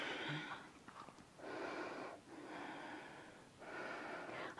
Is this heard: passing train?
no